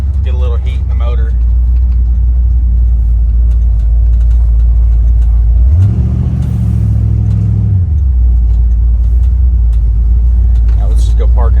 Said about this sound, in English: Do a little bit of heavy acceleration, get a little heat in the motor.